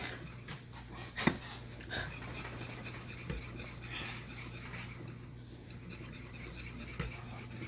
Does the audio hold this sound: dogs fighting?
yes